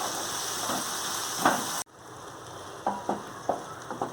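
Chopped tomatoes and other chutney ingredients for momos fry in a pan with red chili sauce and salt, giving a close, steady sizzle that briefly cuts out, then returns with a few soft stirring clicks, with no talk.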